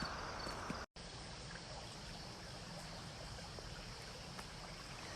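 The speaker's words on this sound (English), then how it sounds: "That's the brook. It's nearly down to a trickle. There's hardly any water." A small brook, nearly dried up, trickles with a soft, steady, continuous wash of water at low volume, alone, with no voices.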